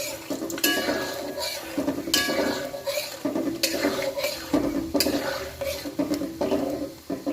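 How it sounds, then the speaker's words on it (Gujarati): Peanuts stirred and sautéed in hot oil for poha chivda, with a steady frying hiss and repeated scraping, clinking stirs of a spoon against the pan, close and continuous without speech. "મેં અહીંયા આગળ એક નાની વાટકી સિંગદાણા લીધા છે આપણે એને સરસ સારી રીતના સાંદળી લઈએ"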